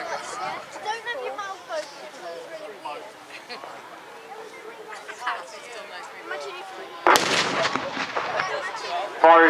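CVRT armoured vehicle weapons fire at a firepower show, with sharp bangs mostly in the last seconds, after a stretch of crowd chatter and talk that stays under and between the shots.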